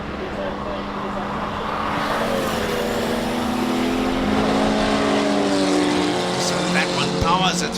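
Classic cars race up the Simola Hillclimb, their engines climbing and sweeping in pitch as they accelerate at a distance, with a commentator talking over the steady roar.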